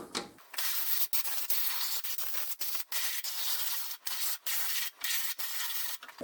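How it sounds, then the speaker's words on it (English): A Scotch-Brite pad with WD-40 scrubs metal equipment during winter rust-prevention maintenance, a steady close rasping rub broken by brief gaps between strokes. "Give her a little wipe down with some WD-40 and some Scotch-Brite."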